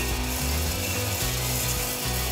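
A coffee machine brewing while powered by a Jackery Solar Generator 2000 Plus portable power station, a loud continuous mechanical buzz and hum with rapid ratcheting pump pulses, no talking.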